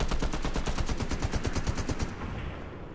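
Rapid automatic gunfire from the Fortnite video game rattles in a loud, steady burst of evenly spaced shots for about two seconds, then cuts off into a quieter tail.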